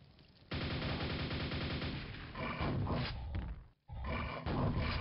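Rapid nailgun fire in Quake, a dense stream of loud mechanical shots hammering at enemies, nearly continuous with a brief pause partway, no talk.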